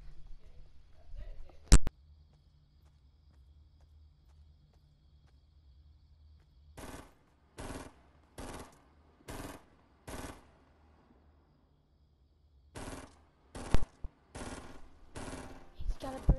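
Burst rifle gunfire in the battle royale game Fortnite, with short groups of rapid shots repeating at a steady rhythm, loud and close, after a single sharp shot near the start. A voice talks at times between the bursts.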